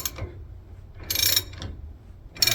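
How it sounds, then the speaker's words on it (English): A ratchet wrench backs a nut off a hydraulic leveling cylinder from a man lift, giving three separate bursts of rapid metallic clicking with short quiet pauses between them, close and clear. "Should be able to ratchet it right off now"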